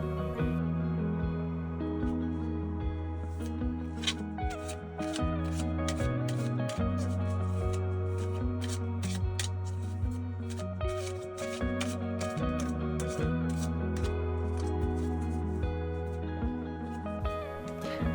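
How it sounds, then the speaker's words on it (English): Tarot cards being shuffled and laid down, with crisp repeated card snaps and flicks in a steady run over soft background music. "Let's lay down your cards."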